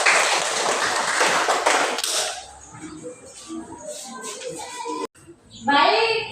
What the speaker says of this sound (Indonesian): berikanlah tepuk tangan kepada kelompok 2